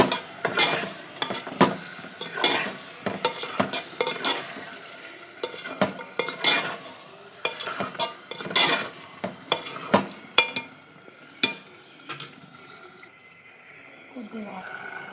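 Stirring spices into an egg tomato curry frying in a pan, with repeated scraping strokes of a spoon over a low sizzle, close and fairly loud, while someone talks intermittently.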